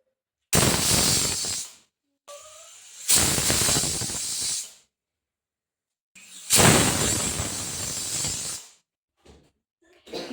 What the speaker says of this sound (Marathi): कुकरचे तीन शिट्ट्या झालेले आहे